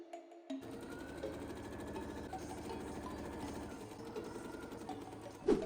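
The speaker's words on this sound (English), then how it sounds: "Next, I sew the back pieces to the front by the shoulder and side seams." A domestic sewing machine stitching the shoulder and side seams of a dress, running in a steady, fast mechanical chatter that continues close and even throughout, with a brief knock near the end.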